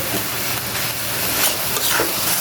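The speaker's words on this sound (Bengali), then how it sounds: "একদম পানিটা শুকায় ভাজা ভাজা করে নিব।" Amaranth leaves frying in a pan as their water cooks off, a steady close hiss and sizzle running throughout with no talk.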